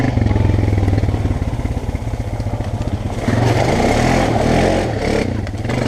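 A Honda dirt bike churns through a mud pit, its engine loud and close with a rapid pulsing putter that climbs into a strained rev midway and stays high to the end.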